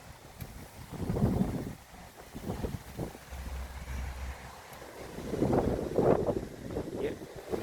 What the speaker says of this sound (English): Yeah, really, really windy.